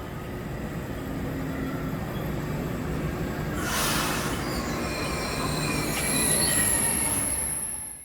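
A Swiss train bound for Zurich rolls along the rails with a steady rumble, wheels squealing and hissing in high-pitched streaks throughout, close and continuous.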